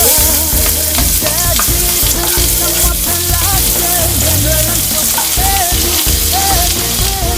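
Corn hits about a teaspoon of hot oil for pork keema and fries loudly and steadily, a dense, close crackling sizzle that fills the whole stretch with no pauses.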